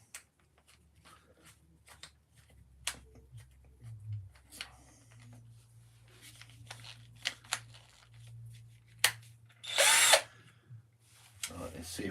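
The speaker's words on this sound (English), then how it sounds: "let's see if we can drill a hole." A power drill whirs in short bursts, with a longer, louder spell near the end, among clicks and handling noises at close range.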